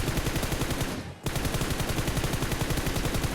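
Rapid automatic gunfire rattles nonstop during a PUBG Mobile firefight, a dense burst of evenly spaced shots broken by one brief gap.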